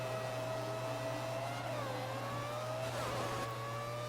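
Race cars launching off the grid at the Nürburgring in the F1 2014 video game, engines revving and climbing in pitch over a steady low hum, the pack surging loudly around the two- and three-second marks.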